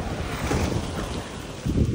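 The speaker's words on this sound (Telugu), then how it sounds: "గాలి అయితే చాలా స్పీడ్గా వస్తుంది" Strong wind roars and buffets the microphone in rough, uneven gusts, a dense rushing noise with no other clear sounds.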